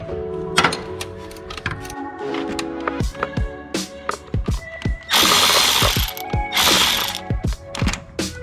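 A ratchet wrench loosens the four bolts holding the AC compressor on a Civic hatchback during an engine bay teardown. Rapid clicking comes in bursts, with metallic clinks and a louder, harsher stretch of grinding ratchet noise near the end.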